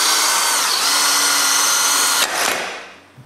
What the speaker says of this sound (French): je perce un trou pour le boulon hanté